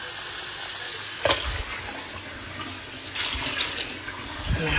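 Water poured into a cooking pot over meat for gombo (okra) sauce, a steady hiss and gurgle with a few louder splashing bursts, close by and alone.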